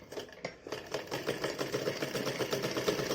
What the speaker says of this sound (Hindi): सिलाई लगा लेंगे यहाँ पे।